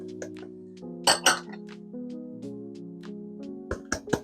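A spoon clinks against a bowl while flour, granulated sugar, salt, baking cocoa and baking powder are stirred together, giving a few bright, sharp taps and a cluster of clinks over a quiet steady hum.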